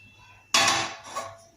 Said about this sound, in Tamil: இரும்பு கடாய் வந்து அடுப்பில் வச்சுக்கோங்க.